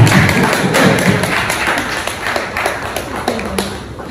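An audience at a university library week celebration claps steadily, a dense patter of hands with sharper individual claps, fairly close and loud with no talking over it.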